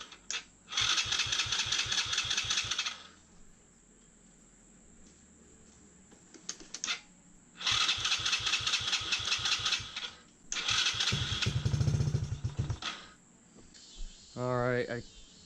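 A Tao Tao Chinese quad's small engine is cranked and coughs to life in several separate attempts, each a loud stretch of rapid chugging that runs a few seconds before dying out, with a higher whine at the very end.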